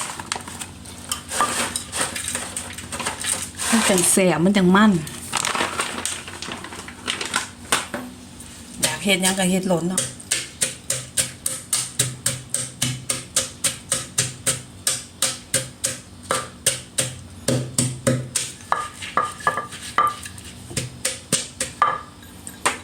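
Papaya salad with peanuts being pounded in a mortar, a long run of regular, sharp wooden knocks that speeds into a steady rhythm, with someone talking over the first part.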